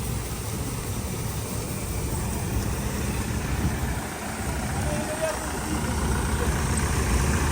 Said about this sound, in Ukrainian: Тракторця не глушив